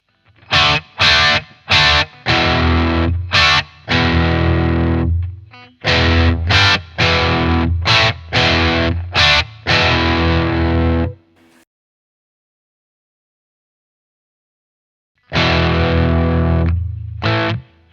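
Electric guitar through a Boss Katana amp on a distorted patch, playing loud chopped chord stabs in a rhythmic riff, then a few seconds of silence before the riff starts again.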